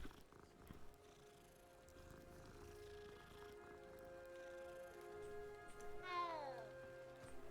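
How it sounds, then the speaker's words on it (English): A Siamese cat in Hogwarts Legacy gives a soft, rising meow near the end, quiet against a calm musical game backdrop with faint purring. "Oh, it's the Siamese."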